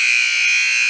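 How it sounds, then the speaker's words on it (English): An ice hockey arena buzzer sounds a loud, continuous electronic blare to end a period in a youth game between SnoKing U17 and the Vancouver Rangers U18, unbroken for the whole moment. "Thank goodness that buzzer came."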